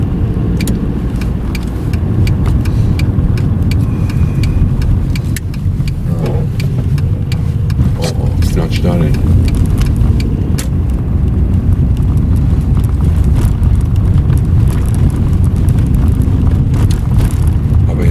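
A Volkswagen Golf 4 1.6 16V engine idles steadily and fairly loud, a continuous low rumble with slight fluctuations throughout, no voices.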